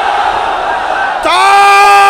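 A large crowd at a religious gathering roars back in unison to a takbir chant, a sudden loud collective shout rising after a preacher's amplified voice and holding to the end.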